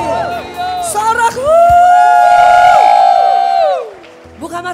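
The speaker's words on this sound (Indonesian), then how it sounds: "Tepuk tangan yang panjang sekali lagi." A church congregation at a morning prayer service claps and cheers together, a loud sustained burst of applause with whoops and shouting voices that swells, holds for a couple of seconds, then fades back toward talk.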